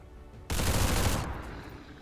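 Burst of rapid video game gunfire aimed at a faceless enemy, a loud dense volley lasting under a second and trailing into a fading echo.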